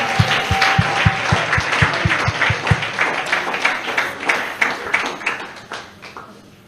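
Applause from a church congregation at a worship gathering, a broad wash of clapping running throughout with a few sharp regular taps at the start, fairly close and steady before easing off toward the end.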